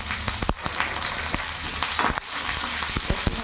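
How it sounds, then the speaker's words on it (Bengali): Whole cumin seeds frying in hot oil in a pan, a close, steady sizzle with crackling pops and occasional stirring clicks throughout. "তেল গরম হয়ে গেছে, এখানে আমি গোটা জিরে দিয়ে দিলাম।"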